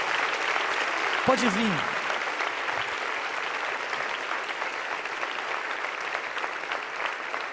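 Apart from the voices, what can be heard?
church congregation applauding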